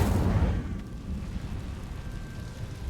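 Incendio fire spell cast in the Hogwarts Legacy video game, a loud whooshing burst that opens strongly and settles into a steady roaring crackle for a few seconds, with no talk over it.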